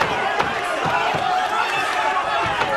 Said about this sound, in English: Crowd now really getting behind this fight.